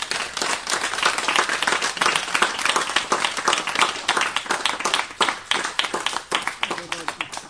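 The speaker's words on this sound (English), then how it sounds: "please give them big applause" Dense, sustained audience applause fills a ceremony hall, a crowd clapping steadily and loudly throughout, with faint voices mixed in near the end.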